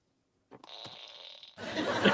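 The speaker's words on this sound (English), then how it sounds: "You've just got your fart button, haven't you, Husey?" A fart sound effect from a novelty fart button plays a buzzy, sputtering blast of about a second, then breaks into close laughter and room noise.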